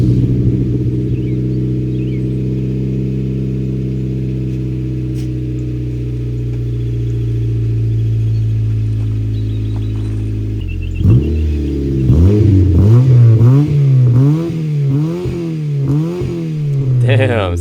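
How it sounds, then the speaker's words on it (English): Honda Civic running a junkyard-sourced exhaust: a steady droning idle for a long stretch, then a series of quick, loud throttle blips and revs near the car. "this is what it sounds like with the junkyard exhaust on it"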